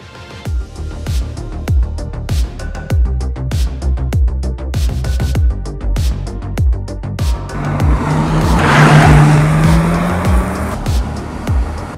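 A Mercedes-AMG C 43 4MATIC engine pulls away and builds revs steadily, loud and close, with tire noise rising near the end.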